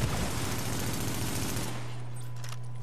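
Sustained automatic fire from a high-end weapon in the video game The Division, a dense loud burst lasting over a second and a half before cutting off into a ringing tail.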